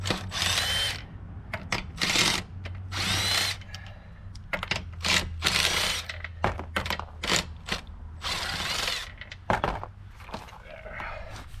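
An impact-style power tool spins lug nuts off the wheel of a 2018 Alfa Romeo Stelvio, repeated short ratcheting bursts and whirs with brief pauses between, close and loud, with a voice speaking quietly in between.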